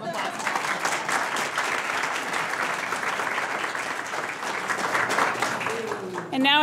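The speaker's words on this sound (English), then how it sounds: "Let's give our founders another round of applause." A crowd gives startup founders at an entrepreneurs' seed fund demo day a round of applause. Sustained, fairly even clapping fills the room with no letup, and a voice begins to speak right at the end.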